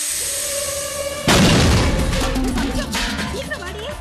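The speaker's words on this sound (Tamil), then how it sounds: "உங்க காதுல பெருசா வெடி சத்தம் கேட்டது" A single loud firecracker blast bursts suddenly after a quiet hum, then a rumbling, crackling tail fades over a few seconds.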